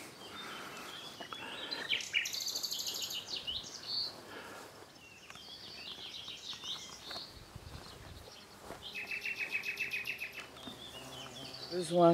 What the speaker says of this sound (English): You can hear a nightingale in the background.